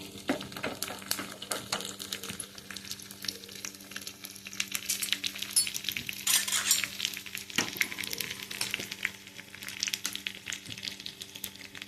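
Tempering spices crackle and pop sharply in sizzling oil, a dense run of rapid little bursts over a steady hiss, close and continuous.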